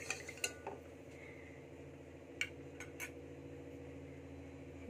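Semolina halwa with added sugar being stirred in a pan over low heat: faint metal spoon scrapes and clinks against the pan, a few sharper taps, over a low steady background hum.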